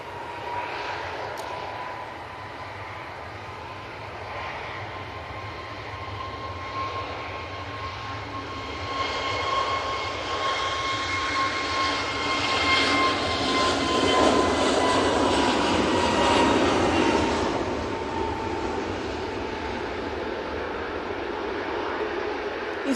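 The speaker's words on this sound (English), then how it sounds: "Easyjet, A321 Neo on the roll" An easyJet Airbus A321neo jet roars steadily through its takeoff roll at Manchester Airport, engine noise swelling and holding loud at a moderate distance with a whining tone over broad rumble.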